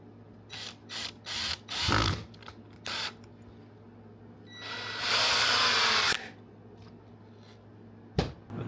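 A power drill drives screws into 2x4 lumber: several short trigger bursts, then a longer whirring run as a screw sinks home, loud and close with brief pauses between, ending on one sharp final burst.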